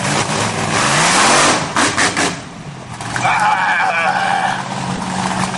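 A 1,500 bhp modified Volkswagen Beetle at the Bug Jam drag event revs loudly and close, engine note swelling and dipping, with a crowd cheering and shouting over it.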